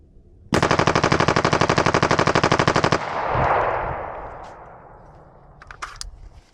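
An AR-style rifle fitted with an FRT trigger empties a full magazine in one rapid, evenly spaced burst of about two dozen sharp, loud shots outdoors, followed by a lingering rumble and a few light clicks.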